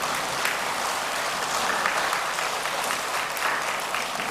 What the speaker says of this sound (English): Will you clap your hands?